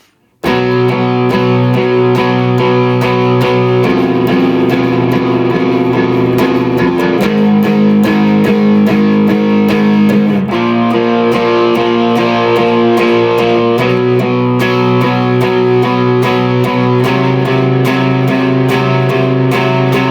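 A guitar plays the verse of a song with a loud, driven tone, strumming steady chords that change every few seconds for about twenty seconds without a break. No voices are heard.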